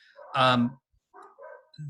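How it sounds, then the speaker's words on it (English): Several dogs bark at home in a loud, close burst of overlapping barks, then fainter yips and a whimper follow after a short pause. "my dogs are barking"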